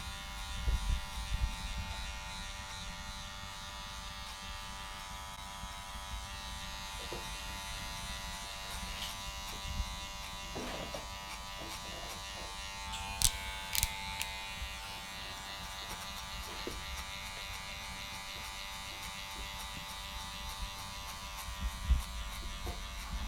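Electric hair clippers with a guard fade a skin-fade combover haircut, a steady close buzzing hum that runs throughout with small flicks and bumps as the blade lifts off the head, no speech.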